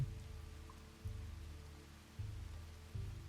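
Rain falls steadily in the prehistoric survival game Dawn of Man, a soft continuous patter over low rumbling ambience with periodic louder swells, no voices.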